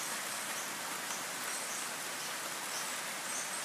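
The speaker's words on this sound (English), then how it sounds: "Lovely hearing the rain here." Steady rain falls in Brisbane in a soft, even hiss, with faint chirps of birds now and then in the background.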